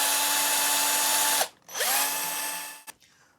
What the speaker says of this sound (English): I'm going to drill the tie on eye